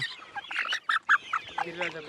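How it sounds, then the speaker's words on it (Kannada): Two-month-old Giriraja country chickens on a farm, giving short nasal clucks and squawks in quick, uneven bursts, close by and fairly loud, with a voice faintly underneath. "ಇದು ಗಿರಿರಾಜ ಕೋಳಿ"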